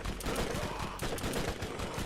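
Rapid submachine gun fire from the video game Borderlands, a dense continuous burst of shots running close and loud through the whole stretch with no talk.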